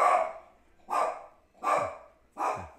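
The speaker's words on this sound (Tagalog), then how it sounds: "Kumahol po ang aming aso." A dog barks four times in an even rhythm from the house while someone is outside, each bark loud and close, with quiet gaps between and no talk.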